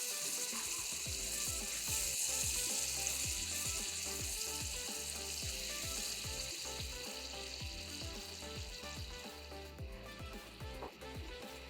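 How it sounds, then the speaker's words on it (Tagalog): Orange juice with apples and orange zest reducing in a hot pan for brandied fruit, giving a steady, dense sizzle with quick scraping ticks from stirring throughout, and no voices. "We add now our orange juice and we allow that to reduce"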